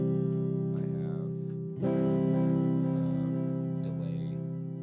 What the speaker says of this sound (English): on the Fender setting number 3 here, preset number 3 is actually just a tube preamp preset with 5 effects